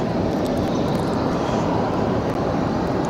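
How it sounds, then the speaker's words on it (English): Jet2 airliner arriving at Barcelona airport from Manchester, a steady, loud broadband engine roar that holds evenly throughout with no talking. "In the background, Jet 2 just arrived from Manchester."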